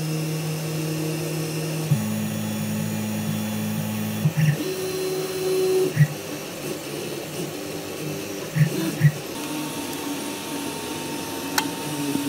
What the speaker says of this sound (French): Et on démarre la procédure d'impression.